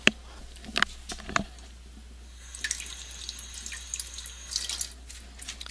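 Tap water runs into a kitchen sink as raw beef for stew is rinsed, a quiet hiss of flow with scattered drips, splashes and clinks, fairly close with no talking.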